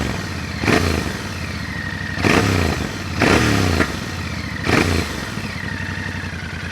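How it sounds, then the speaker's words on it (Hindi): Royal Enfield Interceptor Bear 650 fuel-injected motorcycle idling with its exhaust note up close, broken by four sharp throttle blips that rise and fall in quick succession over a steady thumping idle. "So this was the exhaust note."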